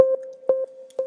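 A plucky synth tone, built from a sample shaped with a transient shaper in Phase Plant, plays three short, clean plucked notes at an even pace, each with a sharp attack and quick decay, alone and clear.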